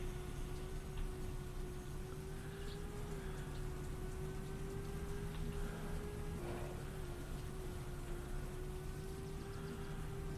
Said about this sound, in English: And we're back to slip sliding around in the rain.